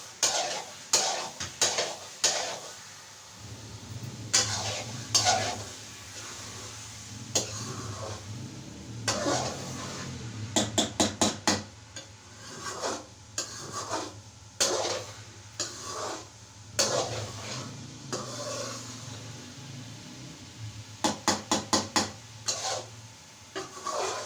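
Carrot halwa being stirred and roasted in a pan, with repeated scraping strokes of a spoon against the metal in rapid bursts over a steady low sizzle, close and fairly quiet, with no talking.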